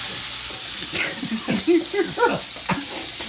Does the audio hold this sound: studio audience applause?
no